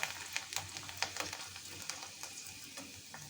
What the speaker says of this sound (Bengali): তো এই আমি তেলে এখন ভেজে নেব